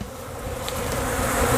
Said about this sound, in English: Look at all the bees.